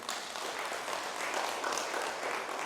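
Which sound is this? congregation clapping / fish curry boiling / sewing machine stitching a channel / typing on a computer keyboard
congregation clapping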